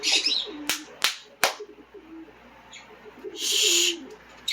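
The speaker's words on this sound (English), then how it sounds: "If my birds will pipe down for a second." Pet birds calling indoors: chirps and whistled calls come in bursts, with several sharp clicks early on and a longer, louder stretch of calling near the end.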